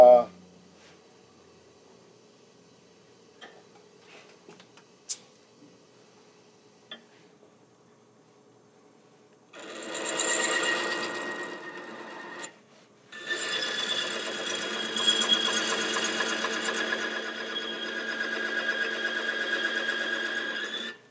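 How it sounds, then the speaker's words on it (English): A Wagner rotary cutter tool spinning at 500 revs starts after a quiet stretch with a few small ticks, whirring loudly in a burst, cutting off briefly, then running steadily again to the end. "This is the Wagner tool."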